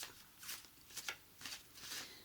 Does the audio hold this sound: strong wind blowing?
no